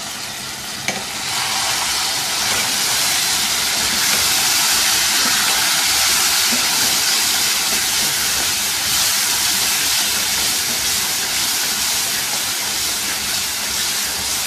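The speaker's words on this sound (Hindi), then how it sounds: "ऐसे ही चम्मच चलाते हुए इसको पकाएंगे कि इसमें जो टमाटर हैं वो घुल जाएं।" Chicken karahi with tomatoes frying in a pan, a loud constant sizzle and hiss as a spoon stirs the masala, close and continuous throughout.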